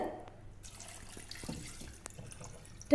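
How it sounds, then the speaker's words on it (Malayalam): Water poured into a pan of large prawns, a soft close trickle and splash with a few drips and clinks, fairly quiet and alone. "അപ്പോൾ ആദ്യം അതിന് കുറച്ച് വെള്ളം ഒഴിക്കുന്നുണ്ട്."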